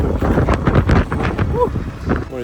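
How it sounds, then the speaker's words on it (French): Strong gusts buffet the microphone on a muddy hiking trail during a 17 km trail run, a steady roar with rumbling swells and a brief voice-like sound midway. "Il y a du vent mais de malade, j'en peux plus."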